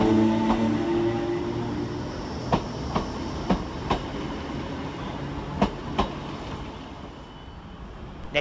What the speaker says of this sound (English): Next to depart out for Northern is 769448, working the 1321 service from Alderley Edge to Southport.